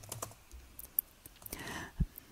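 Sparse, quiet keystrokes on a computer keyboard, a few scattered clicks and one louder key thump near the end, close and alone without talk.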